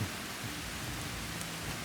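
Steady rain falls in a continuous broadband hiss, fairly faint and even, with no voices.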